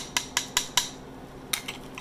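Kitchen utensils from a five-piece set, including a slotted spoon with riveted handles, knocked together in a quick run of four sharp clacks, then a pause and a few softer taps, close and alone.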